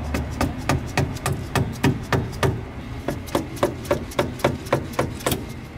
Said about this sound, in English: then we will try and pry this cover off